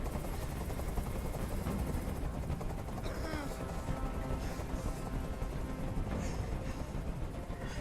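Helicopter hovering in the game Detroit: Become Human, a continuous low rotor rumble and broadband wash running throughout at steady loudness, with faint scattered tones and bursts over it and no speech.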